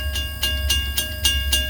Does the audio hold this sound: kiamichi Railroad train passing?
yes